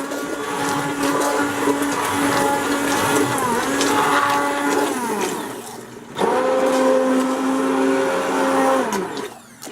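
A blender whirs loudly and steadily as it mixes melted shave soap, with the motor pitch dipping briefly mid-run before surging back up and then cutting off at the end.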